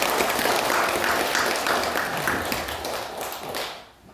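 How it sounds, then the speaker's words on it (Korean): A church congregation claps together to welcome a new member during a Sunday service, a full burst of applause that holds steady and then tapers off near the end. "우리 박수로 환영하고 축복하겠습니다."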